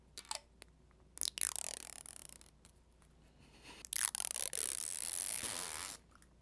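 A Retro 51 pen packaging tube being opened, close-up scraping, ratcheting and tearing bursts with short clicks and quiet gaps between them.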